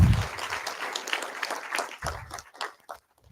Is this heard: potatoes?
no